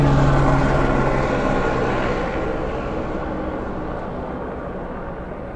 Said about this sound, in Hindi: हेलीकॉप्टर सीधा एवरेस्ट बेस कैंप की ओर बढ़ रहा है।